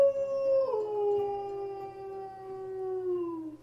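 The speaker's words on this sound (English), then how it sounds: "just let the howl finish" A long wolf howl from the Werewolv.es online game rises, then slides slowly downward as a single sustained tone that holds for several seconds and fades out, heard alone with no talking.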